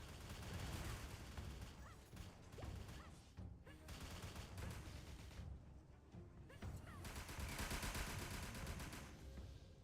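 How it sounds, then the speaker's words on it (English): Rapid cannon attacks from the MapleStory video game fire in dense, repeated bursts of booming, crackling blasts, quiet overall but continuous, with brief pauses between volleys and no talk. "I am trying to use my cannon."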